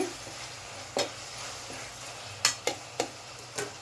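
Tomatoes sauté in a pan while a spoon stirs them, giving a low steady sizzle broken by several sharp scrapes and taps of the utensil against the pan.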